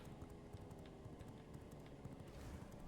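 Horse hooves clip-clop in the game V Rising, a quiet, rapid series of light hoofbeats running steadily over a low ambient rumble.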